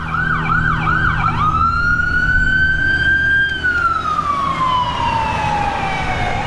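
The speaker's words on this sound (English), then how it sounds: "Another fire truck." A fire truck siren passes close by on a neighborhood street, wailing in rising and falling sweeps before settling into a long loud tone that slides downward as the vehicle moves away, over steady traffic rumble.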